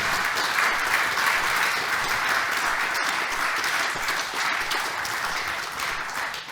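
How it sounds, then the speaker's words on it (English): An auditorium audience applauds at the end of a talk, a dense, sustained wash of many hands clapping that holds steady throughout and fades slightly at the close. "Have you heard applause from the auditorium?"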